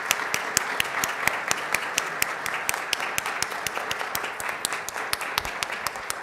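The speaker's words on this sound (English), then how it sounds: "Y'all, please give these students a round of applause." An audience at a school board meeting applauding a group of students, a steady patter of many hands clapping for several seconds at moderate distance.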